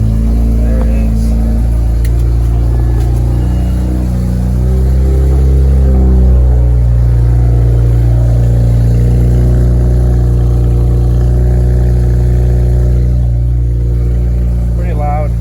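A BMW 335i turbocharged engine idles loudly and steadily right after its first start, a deep continuous rumble with a slight rise in revs midway, close by, while a voice talks over it.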